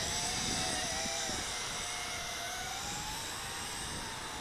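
A JJRC H26D remote-control quadcopter drone flies nearby, its rotors giving a steady, continuous high-pitched whine with wavering tones that hold evenly throughout.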